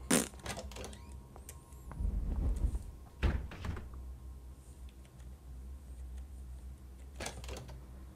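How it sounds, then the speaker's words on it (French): An office desk drawer opening in a horror video game: several dull wooden thunks and a sliding knock, the loudest burst in the middle, set against a low, steady ambient hum. "Le tiroir du bureau s'est ouvert."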